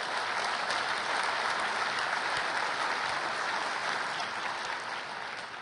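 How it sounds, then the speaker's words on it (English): A conference audience applauds for several seconds, a dense, even rush of many hands clapping that fades slightly toward the end. "See, cheap applause."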